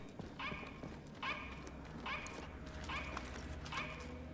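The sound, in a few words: robotic dog bark in video game The Division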